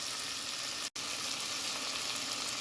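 Carrots and onions fry in melted butter with a steady, close broadband sizzle throughout, cut off by one brief dropout near the start, with no talking.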